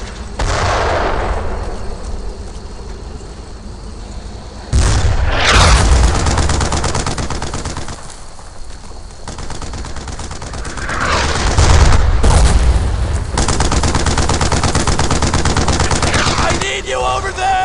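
Gunfire in the video game Brothers in Arms: Earned in Blood, with bursts of machine-gun fire and single shots alongside heavier booms, loud and close and in dense, uneven volleys.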